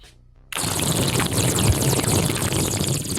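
A human voice imitates a bubbling water bong, producing a continuous loud gurgling, percolating rush that starts abruptly after a brief quiet moment and holds steady to the end.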